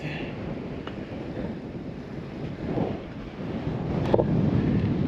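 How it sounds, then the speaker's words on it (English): Breezy wind buffets the microphone high on a sailboat mast in a harbour, a continuous rumbling roar that swells and eases, with a faint clank partway through. "It's pretty breezy."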